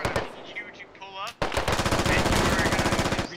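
Rapid automatic gunfire rattles in a long, evenly spaced burst in the Squad video game, loud and close, after a brief moment of talk and scattered shots.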